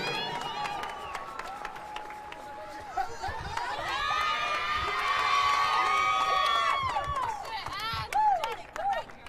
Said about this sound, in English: let's send a round of applause to Rider University on its second place finish